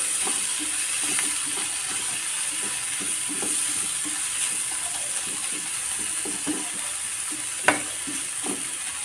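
Paneer is being stirred into masala in a hot pan for paneer butter masala dosa, with a spoon scraping in soft irregular strokes over a constant sizzle and one sharp clink near the end.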